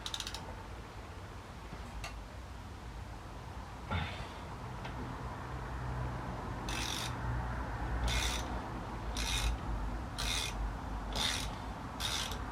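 A ratchet works a rusty Phillips screw on the rear hub of a Citroën Xsara: faint rasping and scattered clicks at first, then several short, regular bursts of quick ratchet clicking, close and alone.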